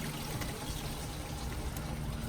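Engine coolant gushes steadily from a 2002-2004 Lincoln Navigator 5.4 engine into a pan during thermostat removal, a continuous splashing pour with no talking, fairly close and even in loudness throughout.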